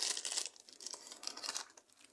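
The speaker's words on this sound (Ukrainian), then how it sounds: "Розрізаємо так. І так, вони у нас в такому зіп-пакетику." Close, crisp crinkling and tearing of a thin plastic zip bag in short bursts as it is cut open.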